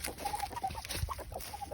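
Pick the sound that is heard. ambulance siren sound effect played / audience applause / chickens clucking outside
chickens clucking outside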